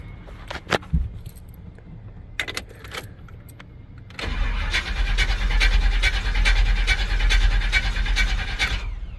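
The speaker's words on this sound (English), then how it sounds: "Alright, let's go crank it. See how many cranks." Car engine cranking on power from a portable jump starter: several quiet clicks and thumps, then a steady loud cranking churn with a regular rhythm that continues for about five seconds, close by, with no talk.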